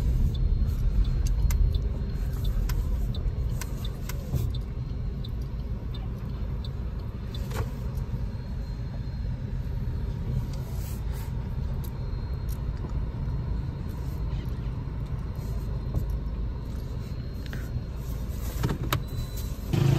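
Inside a car driving along a road, a steady low engine and tyre rumble fills the cabin without pause, with a few faint clicks and rattles and no talking.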